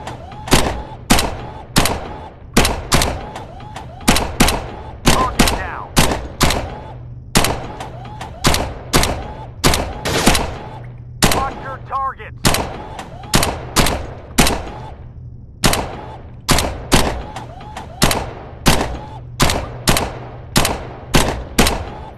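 Submachine gun fire in the Gun Club VR shooting game: repeated short, loud automatic bursts separated by brief pauses, continuing in a regular rhythm throughout.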